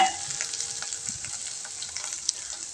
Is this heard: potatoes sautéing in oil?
yes